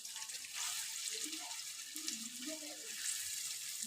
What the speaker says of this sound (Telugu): సో ఇప్పుడైతే ఆనియన్స్ ఆయిల్లో యాడ్ చేస్తున్నాను.